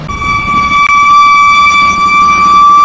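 A Maharashtra or Karnataka state transport (ST) bus pulls into a crowded bus stand on the Wai to Vijayapura route, its loud, steady, multi-tone horn blaring continuously over a rumbling engine and background bustle.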